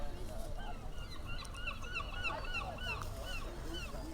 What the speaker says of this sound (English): All I can hear is the seagulls